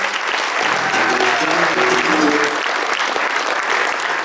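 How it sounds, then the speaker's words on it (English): A banquet audience at a chamber of commerce event breaks into a dense, steady round of clapping that fills the room for several seconds, with faint voices mixed in. "the curtain opens to a round of applause from the audience"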